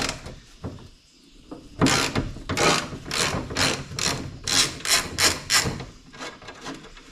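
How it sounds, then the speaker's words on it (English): A ratchet loosens bolts on a Chevy Suburban bracket, with quick, close bursts of ratcheting clicks repeated in a steady rhythm after a few faint knocks. "So I need to loosen this bolt and this bolt"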